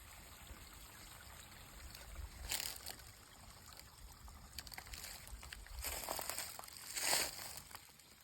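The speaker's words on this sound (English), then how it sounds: "Some running water." Running water in a spring woodland stream trickles and gurgles faintly and steadily, with a few brief louder splashes and rustles swelling through it.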